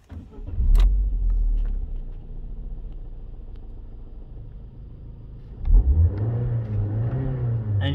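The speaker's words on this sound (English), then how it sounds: "Engine sounds very smooth and very healthy." A Vauxhall Astra automatic cranks and starts with a brief loud revving surge, then settles into a steady, smooth idle, with a second rev rising near the end; the engine sounds close and clear.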